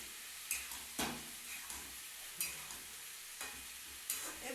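Boiled, salted dal goes into a pan of spices, giving a soft sizzle with repeated stirring scrapes and clacks at an uneven rhythm, fairly quiet and close.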